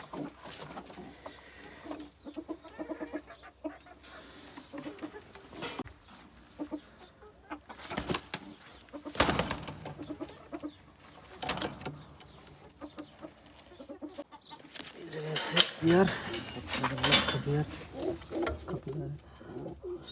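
Lakha pigeons with new chicks coo in a loft, soft repeated coos mixed with louder bursts of flapping and handling noise, with some human talk in the background.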